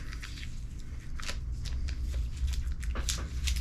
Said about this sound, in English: We're going to peel the tape right here.